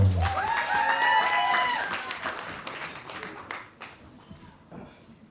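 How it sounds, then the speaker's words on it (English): A burst of clapping and applause from a crowd that swells briefly and then fades away. "Ladies and gentlemen, let's give him a round of applause."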